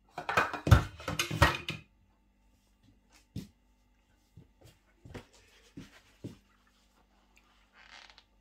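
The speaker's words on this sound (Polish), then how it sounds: "Gaszę gaz i wyciągam słoiki" Glass jars of pickled cucumbers lifted out of a pot in a home kitchen: a few loud clinks and clatters of glass against metal at first, then sparse, quieter knocks and taps with pauses between.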